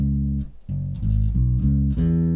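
Bass guitar plays the second bar of a soul riff, a short run of deep, sustained notes with clear note changes, played alone and upfront.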